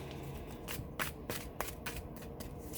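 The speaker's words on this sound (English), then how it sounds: "if you don't want to watch me shuffle" Tarot cards are shuffled in a series of quick, crisp riffling bursts at a steady rhythm, close and fairly quiet.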